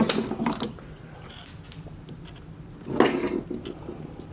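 Metallic clinks and rattles from a Plymouth 340 V8's rotating assembly, crankshaft and pistons, being turned on the bench, with a sharp clatter at the start and another about three seconds in, over a quiet room.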